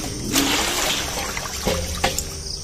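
Water runs from a tap at home, a steady splashing flow with trickling and a few sharper splashes near the middle, close and without speech.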